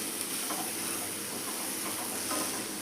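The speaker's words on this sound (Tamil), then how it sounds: "மசாலா போட்டு நல்லா கிண்டிடுங்க" Peanuts frying with masala in a pan while being stirred, giving a steady close sizzle with faint scraping under a constant hiss, no talk.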